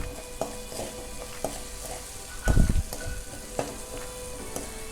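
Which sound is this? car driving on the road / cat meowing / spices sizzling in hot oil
spices sizzling in hot oil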